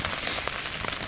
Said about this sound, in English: that rain was kind of blowing a little bit sideways here for a minute